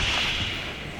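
A single sharp slap lands in a Hindi TV drama scene, a brief crack at the start fading into a dense, noisy music-and-room background.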